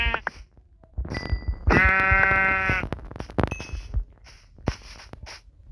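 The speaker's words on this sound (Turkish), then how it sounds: "Burada da iki tane koyun var." Several sheep bleats from Minecraft, wavering and nasal, with one long drawn-out bleat in the middle and game clicks and dings around them.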